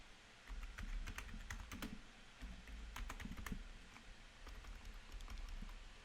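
Rapid keystrokes on a computer keyboard while entering a Django command at a command prompt, a steady close run of clicks with a few louder taps, no talking.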